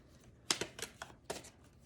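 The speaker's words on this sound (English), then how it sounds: "Y'all wanted me to shuffle because that's what you told me" Tarot cards shuffled by hand in a few short riffling bursts, close and fairly quiet, with brief pauses between the flurries and no talking.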